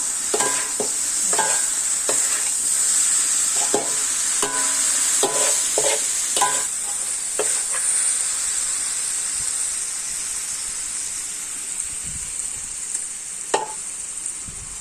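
Pork and bell peppers stir-frying in a pan, with a steady bright sizzle throughout and repeated short scraping stirs of the spatula through the first half, easing to a calmer hiss near the end.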